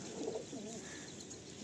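A pigeon coos softly in a low, rolling burble, faint and close, with no voices over it.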